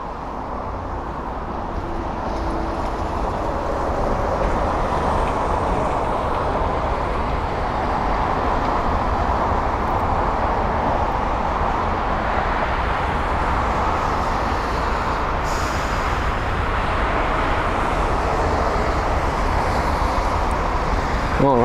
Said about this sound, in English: it's going to be one of the first few aircraft to depart from the runway in front of us